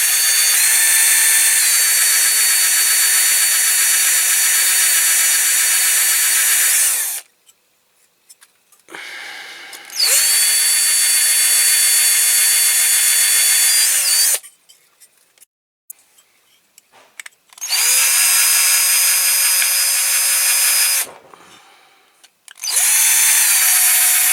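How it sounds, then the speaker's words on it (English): A drill runs in three long bursts with short quiet gaps, its high-pitched whine grinding through metal rivet posts on a Dinky Toys Big Bedford model truck, then starts again at the end. "It's the one I used to drill the rivet posts out with."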